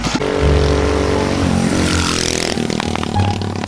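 A 212cc go-kart engine running with no muffler fitted, a loud, close, raw buzzing roar that holds steady for a few seconds, with a rattling, clattering edge.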